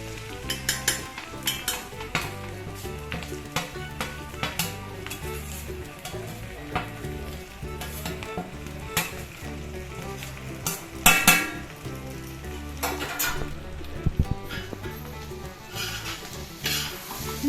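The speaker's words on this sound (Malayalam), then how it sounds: "ഇനി നമുക്ക് വറുത്ത് വെച്ചിരിക്കുന്ന ബീഫ് ചേർക്കാം." Fried beef for restaurant-style beef kondattam sizzles steadily in a pan while a spoon stirs and scrapes it, with frequent metallic clinks against the pan throughout.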